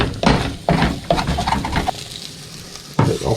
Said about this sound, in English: I'll give it one last stir.